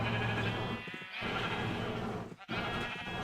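Sheep bleat in the Minecraft modpack Agrarian Skies: a few close, clear, nasal calls follow one another with short pauses between them.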